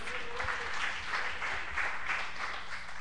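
Clapping praising the Lord during a church service, a steady, moderately soft patter of hands from the congregation, with a faint voice passing briefly in the background.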